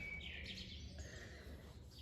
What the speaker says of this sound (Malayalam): നമ്മൾ നഗരത്തിലായാലും നമുക്ക് ഇങ്ങനെ കുരുവികളുടെ ശബ്ദമൊക്കെ കേട്ട് നമുക്ക് ഇരിക്കാം